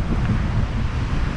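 Strong storm wind at sea around small fishing boats during a typhoon, a dense, steady low roar buffeting close to the microphone without pause.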